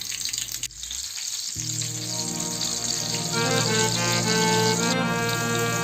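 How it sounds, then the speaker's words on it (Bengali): Pointed gourd (potol) slices fry in hot oil, with a steady, close sizzle that starts after a brief clatter and swells into continuous bubbling crackle, heard alone without talk. "একে একে সব পটল ভেজে নেব।"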